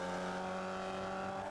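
A Formula Vee race car holds a steady, loud engine drone on track, its tone sustained throughout with no pauses.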